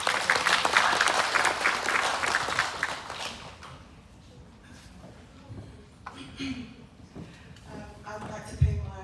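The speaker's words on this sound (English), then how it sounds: "Give her a round of applause." Audience applauding at a conference session, a burst of brisk clapping that fades out after a few seconds, followed by scattered murmurs and movement.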